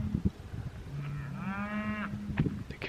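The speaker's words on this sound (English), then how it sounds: "The cows are definitely mooing." Farm cattle give a single long, low moo, close and clear against faint background noise and a few scattered knocks.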